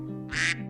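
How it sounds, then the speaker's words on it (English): A female mallard duck gives a single short, nasal quack over a low, steady background hum. "The classic quack of a duck comes from a female mallard."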